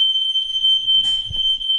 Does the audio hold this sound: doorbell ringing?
no